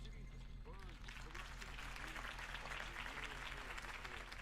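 Sustained crowd applause in the Batman Telltale game, dense steady clapping that follows a campaign speech, with a murmur of crowd voices beneath it and no clear talking on top.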